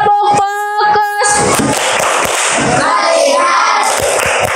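A group claps the 'tepuk fokus' ice-breaker routine in a classroom, a dense burst of many hands that follows a short voiced sound and carries on to the end.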